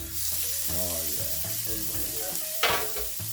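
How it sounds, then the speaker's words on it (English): Pork tenderloin sears in a cast iron skillet, giving a steady, close sizzle and frying hiss throughout with a brief louder spatter near the end. "So we'll go ahead and sear this on all sides."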